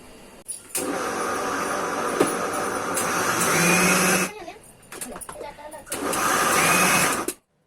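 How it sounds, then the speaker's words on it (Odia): An electric mixer grinder whirs loudly as it grinds soaked black gram and rice into batter for dosa and vada. The motor runs in a long burst, stops briefly, then starts up again before cutting off. "ତ ଦୁଇ ଗ୍ରାଇଣ୍ଡ କରିଦେଉଛି ଏବେ, ଭିଜିକିରି ହେଇଗଲାଣି।"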